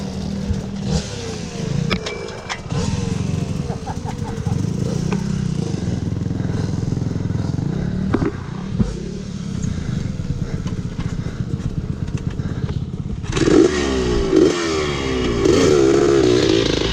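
A 1976 Yamaha YZ400 motorcycle rides through woods and around a small motocross track, its two-stroke engine droning and revving with rising and falling pitch, loud and close, with a sharper burst of revving near the end.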